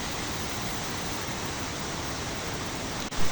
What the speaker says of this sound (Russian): А вот, собственно, и сам водопад.